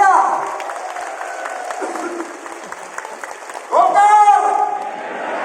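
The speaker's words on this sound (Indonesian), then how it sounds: "Berdiri, tepuk tangan lagi semuanya yang meriah." Applause fills a Golkar party rally in Indonesia, sustained clapping from the crowd that swells near the end, with someone speaking over it through a loudspeaker.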